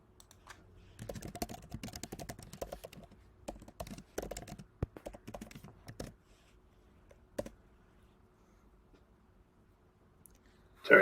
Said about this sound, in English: a few people furiously typing in the chat channel